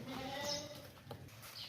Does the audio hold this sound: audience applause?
no